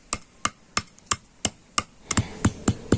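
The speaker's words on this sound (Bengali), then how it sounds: "তো মিছরিটা আমি গুঁড়ো করে নিয়েছি।" Rock sugar (mishri) pounded into powder with a pestle, a steady series of sharp, evenly spaced thuds that come quicker and heavier near the end, close and alone.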